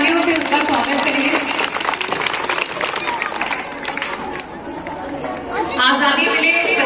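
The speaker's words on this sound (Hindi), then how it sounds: "तो अपने माँ बाप के लिए जोरदार से तालियों से उनका स्वागत करिए।" A large gathering of schoolchildren breaks into loud, sustained applause for their parents at an event with a politician. Crowd chatter and voices mix through the clapping.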